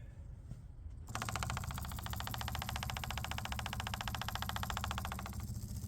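A small block Chevy engine catches and runs once the fuel pump kicks in, a loud, steady, close-up roar with rapid firing pulses that holds evenly for several seconds after a brief quiet start.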